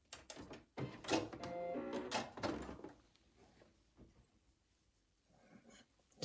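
A sewing machine stitches along a tunic placket in a steady run lasting about two seconds, then stops, leaving quieter handling clicks and rustles close by.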